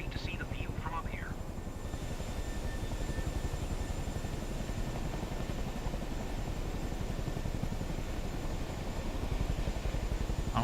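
Chinook helicopter flying in Microsoft Flight Simulator 2024, a constant low throbbing rotor chop with fast regular beats under a broad engine hiss, steady and fairly loud, a brief faint voice early on.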